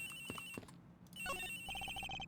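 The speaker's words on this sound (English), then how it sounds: "The ringing is coming from somewhere around here." A ringing phone in the video game Ace Attorney Investigations, with repeated electronic ringtone tones and melodic chirps at close range after a few short clicks, no talking.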